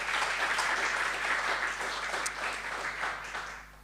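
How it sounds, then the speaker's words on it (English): Audience applauding a guest speaker at a cartography event in Macau, a short burst of steady clapping from a seated crowd that tapers off at the end. "An applause, please, for Stephen."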